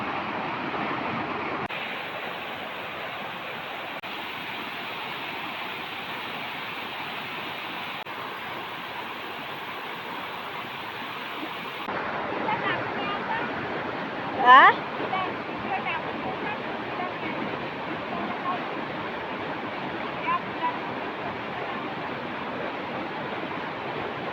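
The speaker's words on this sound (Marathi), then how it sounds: "पाणी बघा, पाणी बघा किती एकदम भयंकर पाणी" Steady, loud broadband rush of a flooded river's heavy flowing water near a bridge fills the whole clip, with a voice briefly speaking over it partway through.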